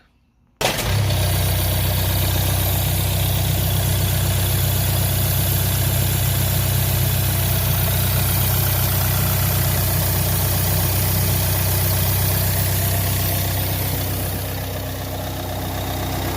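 A Renault Trafic van engine idles steadily after DPF cleaner is sprayed into the intake, a loud, even low rumble that holds constant throughout with no talking.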